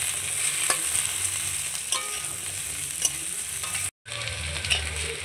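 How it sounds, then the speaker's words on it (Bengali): Taro and potato pieces stir-fried in a pan with fried onions, giving a steady close sizzle with scraping spatula stirs throughout and a brief dropout near the end. "এখন আমি সবজিটা ভালো করে কষিয়ে নেব।"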